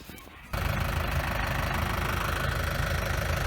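Geese honking on a farm, their calls blending into a loud, steady broadband din that starts abruptly after a brief quieter moment and holds close and continuous to the end.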